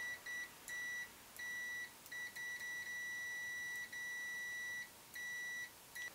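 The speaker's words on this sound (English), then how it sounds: "there's continuity buzzer." Continuity buzzer on an Amazon 90DM600 multimeter sounds in a series of clear, steady electronic beeps of uneven length with short gaps, close and alone against a quiet background.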